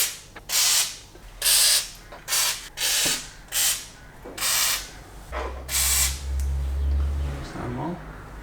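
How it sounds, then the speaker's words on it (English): Penetrating oil sprayed onto the rusty front wing bolts of a BMW E46 3 Series, a run of short, loud hissing bursts with brief pauses, ending in a longer spray over a low mechanical hum. "Again, a bit more penetrating oil."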